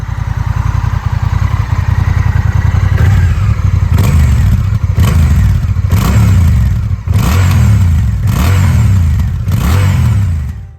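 A Honda CMX 1100 Rebel motorcycle engine idles with a deep, lumpy thrum through its stock exhaust, then is blipped through a series of sharp revs, each rising and falling back, loud and close.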